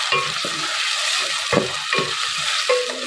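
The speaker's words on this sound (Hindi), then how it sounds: "इनको इसकी भुनाई कर लेंगे कि इसमें से लहसुन अदरक की स्मेल ख़त्म हो जाए" Paste sizzling and crackling steadily in a hot pan, with a spoon scraping and stirring through it at intervals, close up and without talk.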